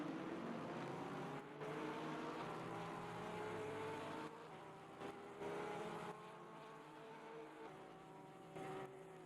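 Porsche race car lapping the Nürburgring in a racing video game, its engine note rising and falling continuously as it accelerates and shifts, loud and steady throughout with no talk.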